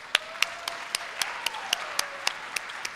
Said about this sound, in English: Can I get a round of applause for this boat,